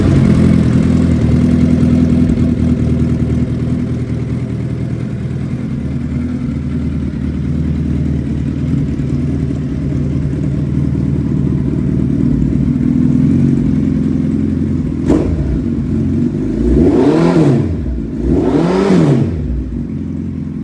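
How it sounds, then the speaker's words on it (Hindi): A used motorcycle fitted with an aftermarket exhaust idles with a steady low rumble, then is revved twice in quick succession near the end, each rev rising and falling sharply. "स्टार्ट करके दिखाते हैं। आफ्टर मार्केट एग्जॉस्ट लगे हुए हैं।"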